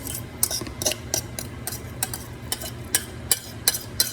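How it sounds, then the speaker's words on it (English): Repeated scraping and rubbing strokes of a spoon through cooked brown rice and chicken in a pan, roughly rhythmic, close by, with no talking. "I'm going to mix this rice"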